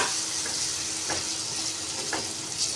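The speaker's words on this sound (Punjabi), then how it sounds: "ਇਹਨਾਂ ਨੂੰ ਥੋੜਾ ਜਿਹਾ ਵਿੱਚ ਫਰਾਈ ਹੋਣ ਦਵਾਂਗੇ" Chickpea curry vegetables frying in hot oil in a pan give a steady, close sizzle with a few faint stirring scrapes and no talk.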